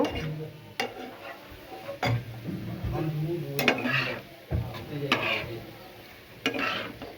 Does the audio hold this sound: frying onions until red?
yes